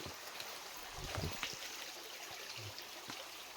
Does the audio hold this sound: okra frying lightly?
no